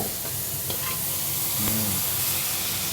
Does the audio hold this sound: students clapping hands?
no